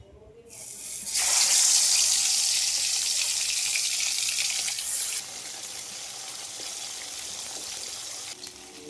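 Fish dropped into a hot wok with turmeric, a sudden loud bright sizzle that flares up, holds strongly, then eases to a softer steady crackle.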